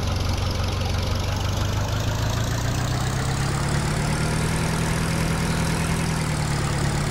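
Tractor engine idling in the video game Farming Simulator 2013: a steady, loud, low mechanical drone with a slight rise in pitch partway through, continuous and alone without any talk.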